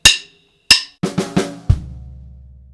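A drum kit plays one short bar, two crisp snare hits followed by quicker snare strokes and a final bass drum thump that rings out low, close and dry, with no voices.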